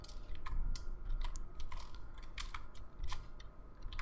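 Code being typed on a computer keyboard, a quick irregular patter of close, light key clicks with a few brief pauses and a faint background hum, no talking.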